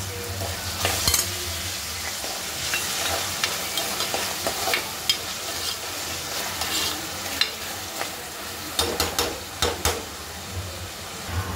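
Onion and chopped tomato fry in a pan for a black pea usal, a steady sizzle running throughout, with repeated scraping stirs and spoon knocks standing out at intervals.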